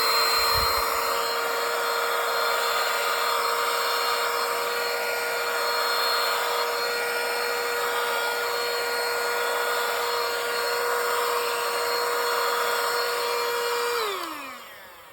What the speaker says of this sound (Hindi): ये हो गया इसका वैक्यूम का फंक्शन।